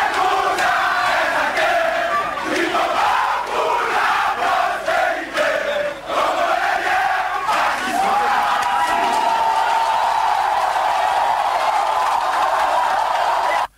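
A tense crowd of people gathered outside a radio station, facing a few dozen gendarmes, makes a dense, continuous roar of mixed voices and shouts throughout, steady and loud with brief dips.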